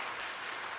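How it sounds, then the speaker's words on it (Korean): Steady broadband clapping from a church congregation, a dense even patter holding at a constant level throughout the short stretch. "하나님께 영광의 박수를 올려드리도록 하겠습니다"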